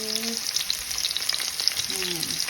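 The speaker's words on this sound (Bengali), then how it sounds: "ফ্রাই প্যানে তেল গরম হয়ে গেছে, এখন দিয়ে দিমু পেঁয়াজ।" Onions go into hot oil in a frying pan for a mixed vegetable bhaji, giving a steady close sizzle with faint crackles throughout and no talk.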